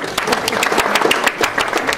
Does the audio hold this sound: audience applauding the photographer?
yes